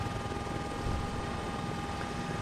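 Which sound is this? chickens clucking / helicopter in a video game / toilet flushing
helicopter in a video game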